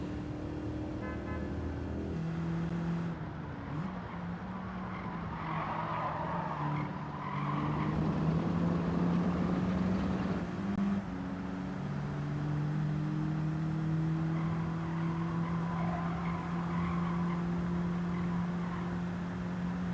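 Race car in Gran Turismo 7 on comfort soft tyres, its engine droning through gear changes while tyres squeal and skid for long stretches, steady and close with no talking.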